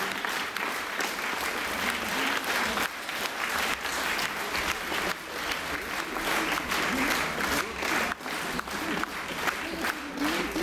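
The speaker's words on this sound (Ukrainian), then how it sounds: "І давайте їх дружно привітаємо оплесками." Sustained applause from an audience welcoming a family of teachers at a school ceremony in Ukraine, a dense, even roar of many hands lasting the whole stretch.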